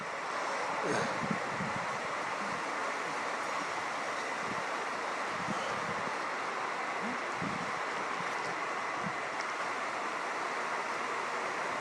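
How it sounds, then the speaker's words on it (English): Steady wind roars across an open microphone outdoors at night, a broad continuous rush with occasional low gusty thumps, loud and constant throughout. "Oh boy, that wind is blowing it."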